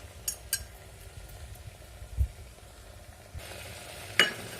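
Spices, including ground pepper and cinnamon powder, are stirred into a tomato gravy for chapatti sizzling softly in a pan, with quiet frying crackle, a few scrapes and clinks of the spoon, fairly faint and close.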